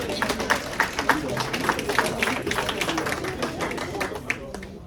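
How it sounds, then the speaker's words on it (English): An audience at a defining-moments presentation at Fort Hayes claps steadily for Spencer, a dense, continuous crackle of many hands lasting the whole stretch with voices mixed in. "Clap it up for Spencer."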